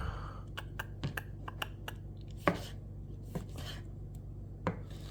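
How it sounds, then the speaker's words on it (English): Knife slicing tomatoes on a cutting board while preparing chicken parm: a series of light, crisp taps and thuds at an uneven pace, several sharper strikes standing out, quiet and close with no talk. "my tomatoes all cut"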